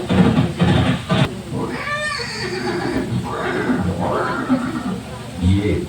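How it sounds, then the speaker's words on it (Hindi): Horse neighs and whinnies ring out as Chetak, Maharana Pratap's horse, in a museum light-and-sound show, a rising-falling whinny near the middle set among dramatic music and other show effects, with narration-like voices throughout. "ये दृश्य महाराणा प्रताप और सुविख्यात स्वामी भक्त घोड़े चेतक के अंतिम मिलन का है।"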